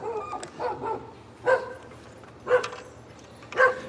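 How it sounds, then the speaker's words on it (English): A neighbor's dog barks a few times outdoors, three or four separate, moderately loud barks spaced about a second apart, somewhat distant, with no talking. "now I got the neighbor's dog's gonna bark at me"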